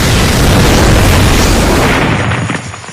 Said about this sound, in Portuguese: Uma explosão ainda maior ecoou como um trovão divino.